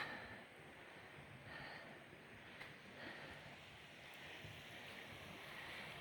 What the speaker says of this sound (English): it sounds like we got our next river crossing